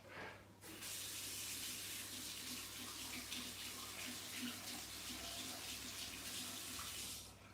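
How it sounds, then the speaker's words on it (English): A paint brush being washed under a running tap, steady close rush of water pouring for about seven seconds with little variation. "I wash again my brush"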